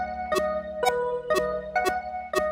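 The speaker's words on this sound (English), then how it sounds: "so quarter notes without the delay effect on would sound like this" Metronome clicking steady quarter notes with no delay effect, five evenly spaced sharp clicks over a sustained synth chord, close and clear.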